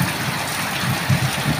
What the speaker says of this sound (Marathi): बापरे काय सांगू तुम्हाला, एवढा पाऊस